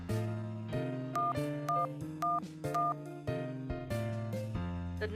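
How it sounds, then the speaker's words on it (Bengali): A phone number is dialed by keypad, giving a run of distinct electronic tones, each one short and evenly spaced, close and clear, with no talking over them. "একবার ফোন করে দেখি"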